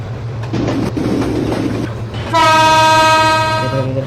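The Barendra Express rumbles along the rails on its Rajshahi to Chilahati route, then its horn sounds one long, loud, sustained blast over the running noise, heard close from on board.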